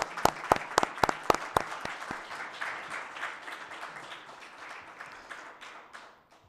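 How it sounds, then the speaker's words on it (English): Audience at a Chesterfield Township regular board meeting breaks into applause, opening with a handful of sharp, loud individual claps that quickly blend into a sustained round of clapping, gradually thinning out toward the end. "maybe a round of applause"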